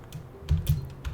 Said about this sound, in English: I'm gonna type in input